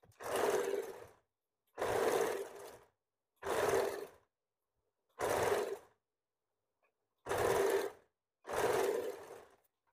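A sewing machine stitching a blouse in six separate bursts of about a second each, with short silent pauses between them, close and moderately loud.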